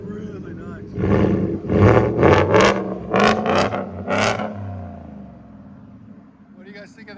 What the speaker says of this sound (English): The Corsa performance muffler sounds really nice.